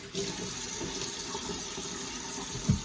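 A tap runs cold water into a bathroom sink, a steady close splashing stream with a brief thump near the end.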